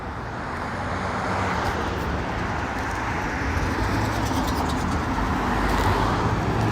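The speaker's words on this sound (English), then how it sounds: "I'm sure you can hear the cars whizzing past me." Steady roar of car traffic speeding past on a nearby freeway, a continuous broadband rush that swells slightly without pause and with no talk over it.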